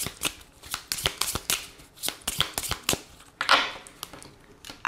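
Lenormand cards being shuffled for a tarot-style reading, a close, crisp run of riffling flicks and papery slaps in uneven bursts, with one longer rustling shuffle near the end.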